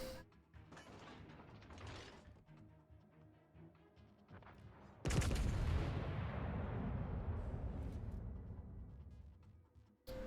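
Naval gunfire from the battlecruiser Carnot in a naval battle game: a mechanical clatter of turret machinery, then one loud heavy cannon blast that booms and rumbles away over several seconds, no talk.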